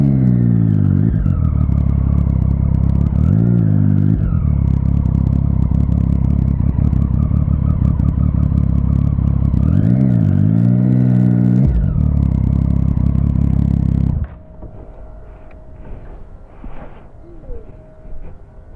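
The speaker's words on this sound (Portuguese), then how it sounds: "Deixa eu encostar a moto ali." Motorcycle on a city street in Curitiba, Brazil, its engine loud and close, rising and falling in revs as it is ridden slowly, then cutting off abruptly near the end, leaving quiet street ambience.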